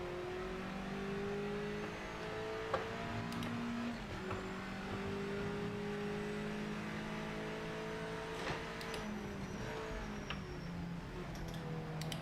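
F1 Mazda race cars roar in the Project Motor Racing video game, their engine whine rising and falling steadily as several cars run together at moderate volume.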